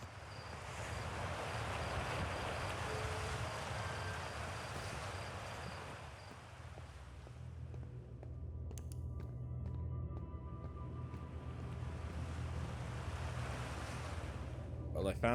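Running water in the video game Outer Wilds washes in a steady, muffled broadband rush with a low rumble, dipping midway before swelling again.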